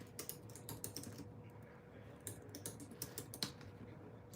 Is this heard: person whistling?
no